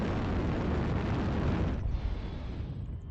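Heavy rumbling blast of a destroyed mech in MechWarrior Online, a loud, dense roar that holds steady and then thins and fades toward the end.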